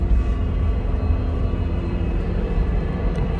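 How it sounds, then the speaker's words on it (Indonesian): A steady low droning rumble with a faint whine on top, constant and unbroken throughout, from an electric bus motor and differential at about 80 km/h. "Jadi suara paling berisik itu ada di sini teman-teman, di gardannya sini."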